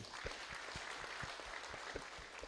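Faint applause from a congregation at a Kikuyu-language youth Sunday church service, a steady scattering of claps heard at a distance with a few sharper hand strikes standing out.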